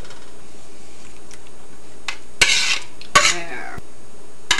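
A ladle scoops a spinach, cheese and bacon quiche filling from a bowl, giving two short bright scraping clinks against the dish, with faint softer taps before them in a quiet kitchen.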